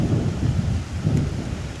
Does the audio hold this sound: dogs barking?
no